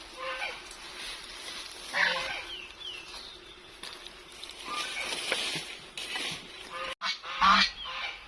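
Several geese honk in repeated bursts, some near and loud, others fainter, with people talking at times in between and under them.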